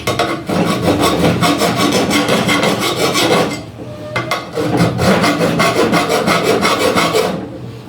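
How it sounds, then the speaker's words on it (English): A hand file works a piece clamped in a GIZMO heavy-duty steel bench vice, loud rhythmic rasping strokes in a quick even back-and-forth cadence, with a short pause midway before filing resumes. "After tightening this one, now I will file this side."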